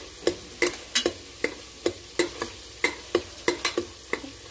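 Fresh turmeric, ginger and garlic paste roasts in oil, stirred with a spoon that gives a dozen sharp, evenly spaced scraping knocks over a soft, close sizzle, with no voices.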